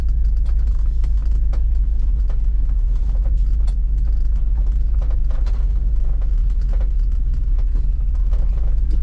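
A 1978 Dodge Aspen R/T Super-Pak rolls slowly into a crowded shop, its engine giving a steady, loud low rumble throughout with faint mechanical clicks and knocks above it, close by and continuous, with no talking.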